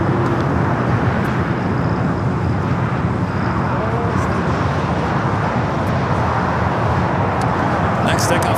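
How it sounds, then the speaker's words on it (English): An American Airlines Airbus A321 takes off from the south side of LAX, its jet engines producing a loud, continuous broadband roar that holds steady throughout with traffic-like rumble underneath. "Takeoff here on the south side is American Airlines Flight 4 heading to JFK. It's an A321."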